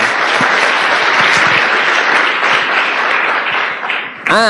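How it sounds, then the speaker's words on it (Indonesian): A crowd at a motivational seminar gives loud, sustained applause that fills the whole clip, with a burst of music or a voice rising at the very end. "Aplaus buat Anda semuanya lah"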